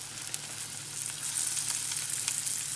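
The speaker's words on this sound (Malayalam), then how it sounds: "ഇനി ഇത് നന്നായിട്ട് ഇതേപോലെ ഫ്രൈ ചെയ്തെടുക്കുക" Chicken winglets fry in oil with a steady, close crackle and sizzle that swells slightly over time. Small pops break through, and a low hum sits underneath.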